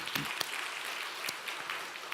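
A church congregation at a Sunday service claps in thanks to the choir, producing a short burst of scattered applause with a few sharper individual claps standing out.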